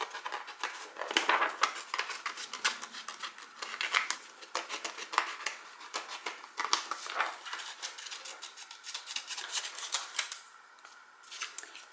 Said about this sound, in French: ce que je vais faire, c'est que je vais découper un peu autour